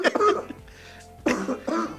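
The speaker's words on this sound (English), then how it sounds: "I can't get this little cough up." A person coughs in a few short, rough bursts, close and fairly loud, with a quieter pause between the first bursts and the later ones.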